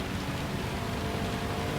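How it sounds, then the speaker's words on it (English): Heavy rain in the Gran Turismo 7 racing game makes a dense, even hiss with a low rumble beneath it, filling a short stretch without any voices. "Heavily raining now."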